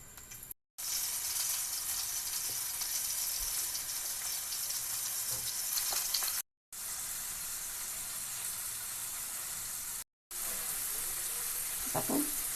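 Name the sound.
prawns frying in oil in a pan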